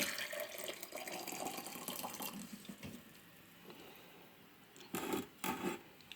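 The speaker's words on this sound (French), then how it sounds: "On va rajouter le deuxième verre d'eau." Faint water being poured from a glass during pickle preparation, a soft trickling splash followed by a few brief louder pours, quiet and close, with no talking.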